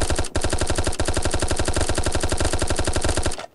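SMG fire in a Cops N Robbers video game mode: one long, loud, rapid burst of evenly spaced shots, a brief break near the start, then ending in a short tail.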